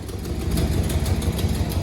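A 1981 Oldsmobile Delta 88 engine idles high, a steady close-up rumble holding an even, fast idle throughout with no voices.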